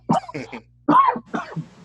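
A few harsh coughs close by, two quick bursts, a pause, then a heavier cough followed by a smaller one.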